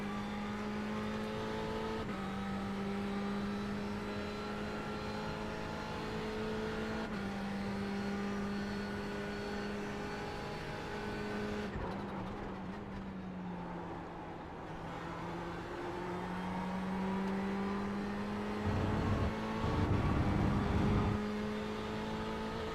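Race car engine held at full throttle around a circuit in a racing video game, a steady high droning whine with gear shifts and pitch dips, loud and continuous throughout with no talk.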